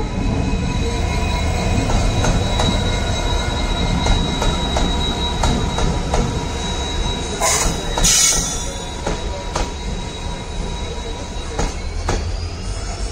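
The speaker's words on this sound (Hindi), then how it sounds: "हमारी ट्रेन पूरी प्लेटफॉर्म पे तो फिट नहीं हो रही थी इसलिए यहाँ पर ऐसे आ गए।" Trivandrum Veraval Express passenger train at Bhatkal station on the Konkan railway, a steady rumble of rolling stock with scattered clanks and a brief wheel squeal partway through, heard close by with no talk.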